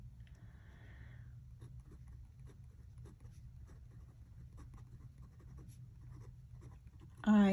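A fountain pen glides across Tomoe River paper with a quiet, close scratching that runs steadily for several seconds over a low hum, ending in a sudden louder thump.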